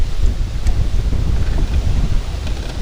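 Wind pushes over Lake Lafayette during autumn fishing, a continuous low rumbling buffet close to the microphone with no voices.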